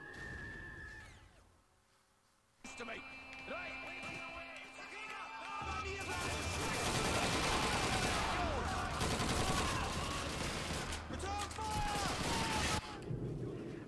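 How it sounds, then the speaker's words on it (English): Dense gunfire from Call of Duty 2 on veteran difficulty rattles in repeated bursts after a short lull, loud and close, mixed with distant shots and booms of a battlefield firefight. "I'm getting shot from every position."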